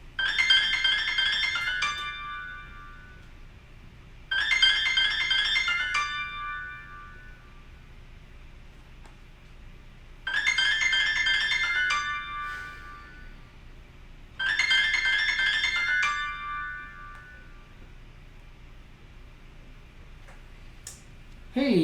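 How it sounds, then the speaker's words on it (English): A mobile phone rings in four separate bursts of about two seconds each, with quiet gaps between them, heard indoors in a physical therapy gym. "You're going to hear it ring."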